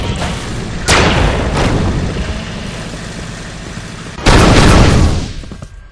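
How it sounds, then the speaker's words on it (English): Combat assault rifle fire in the video game Unreal 2: loud, dense bursts with sharp blasts at the start and a heavier burst near the end, continuous and close over a rumbling backdrop. "The combat assault rifle is a marshal's best friend."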